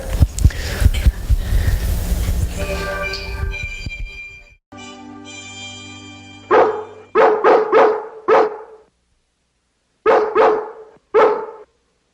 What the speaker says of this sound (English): you can see how the dogs communicate with one another